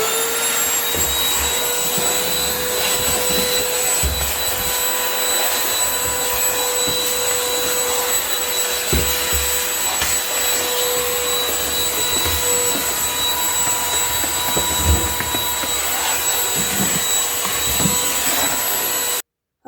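Shark classic cordless handheld pet vacuum runs continuously at close range, a steady loud whine and hum on a bathroom floor and windowsills, with slight changes in tone as it moves, alone without talk.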